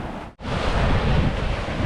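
Waves strike the shore near a lighthouse, a loud, continuous roaring wash of surf with heavy wind buffeting the microphone after a brief dip at the start.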